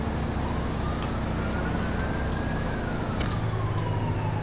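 Faint police sirens in GTA V wail in the distance, slowly rising and falling in pitch over a steady low rumble of traffic and engine noise.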